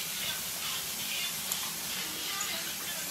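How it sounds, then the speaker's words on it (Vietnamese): Kimchi sizzling on a grill, a dense, steady hiss and crackle of frying that holds evenly throughout at moderate level, with faint voices murmuring underneath. "Nướng kimchi luôn cho nó thơm á"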